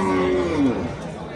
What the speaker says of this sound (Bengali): বিশাল বড় বড় গরু আছে, ছোট গরু আছে দেশি জাতের।